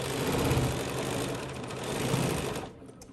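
A Bernina sewing machine with a stitch regulator hums steadily while free-motion quilting, its rapid needle rhythm loud and close, then it stops abruptly near the end.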